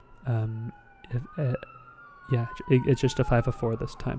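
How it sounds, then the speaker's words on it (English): An emergency siren wails outside, a sweeping tone rising and falling at moderate distance beneath someone speaking. "Apologies for the sirens."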